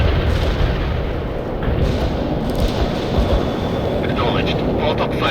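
Rocket launchers firing in the PC real-time strategy game World in Conflict: a loud, dense barrage of booming blasts that blur into a continuous heavy rumble with no pauses.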